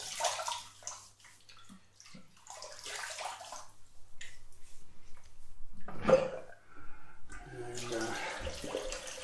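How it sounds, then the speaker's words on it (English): Water splashes and sloshes at a sink in irregular bursts as a face is wetted before shaving, close and fairly quiet, with someone speaking briefly in between. "Let's just wet the face."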